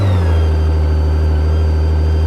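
A 2023 BMW K1600GT motorcycle's inline-six engine running at a steady, loud idle, close up, with a smooth low hum and no speech.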